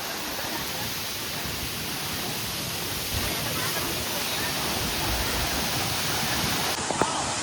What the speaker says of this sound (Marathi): हा खूपच मोठा आहे वॉटरफॉल आहे